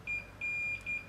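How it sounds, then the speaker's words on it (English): A small electronic beeper on an angle finder level chirps in short, high-pitched pips, several quick beeps in a row, clear and close against a quiet background. "the beeper starts beeping again"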